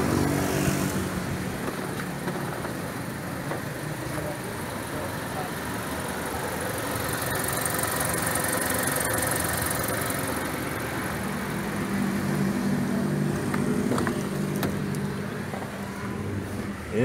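A 2008 Chevrolet Captiva with the 2.4L engine idles steadily at a moderate level throughout, with people talking intermittently over the low, even engine hum.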